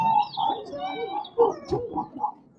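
Several short bird calls and chirps from a museum exhibit playback, slightly tinny, repeat in a loose sequence with brief gaps between them.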